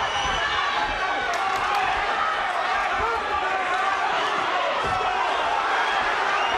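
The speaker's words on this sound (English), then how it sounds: "Listen to the crowd." Boxing arena crowd roaring through the closing rounds of a pulsating Jamie McDonnell versus Stephane Jamoye fight, a dense, sustained wall of cheering and shouting with occasional sharper thuds, steady and loud throughout.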